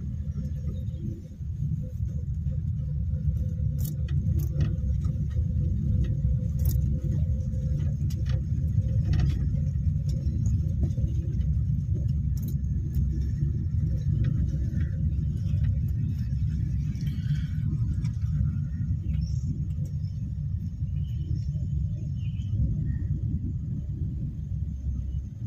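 A car moving along during a driving lesson, with a steady low engine and road rumble that holds at a constant level for the whole stretch, with no talk over it.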